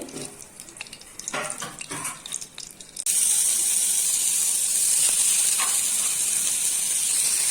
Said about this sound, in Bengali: গরম হয়ে গেছে, আমি তেল দিয়ে দিচ্ছি